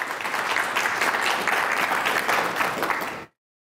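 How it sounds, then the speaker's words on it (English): A museum audience bursts into loud, steady applause for a guest speaker at a history talk, the dense clapping sustained for about three seconds before cutting off abruptly. "give me a loud round of applause for Lacey"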